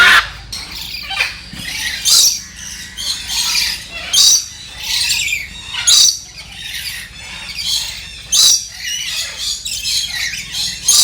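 Loud, harsh red-and-blue macaw screeches repeat in bursts at a bird park in Hambantota, Sri Lanka, some overlapping, shrill and close, with brief quieter gaps between calls.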